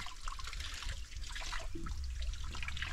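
Fresh spring water trickling at a roadside spring called Água Santa along a forest trail in Santa Catarina, a close, continuous splashing and babbling with brief gurgling tones, loud and unbroken.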